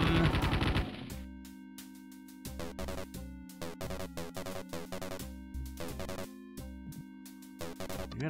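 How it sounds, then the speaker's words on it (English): Rapid bursts from a chain gun in the video game Escape From Stalliongrad, loud staccato volleys of repeated shots after an opening burst, with short gaps between strings of fire. "Chain gun!"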